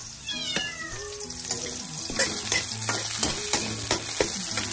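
Onion, garlic and ginger sautéing in a pan, with a continuous sizzle and stirring scrapes, while a cat meows briefly near the start.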